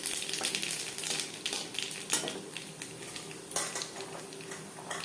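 Dried red chillies and black cumin fry in hot mustard oil with a steady crackling sizzle, punctuated by repeated clinks and scrapes of a metal spoon against the pan.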